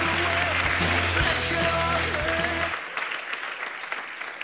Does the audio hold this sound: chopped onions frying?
no